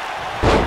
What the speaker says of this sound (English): He slammed him down.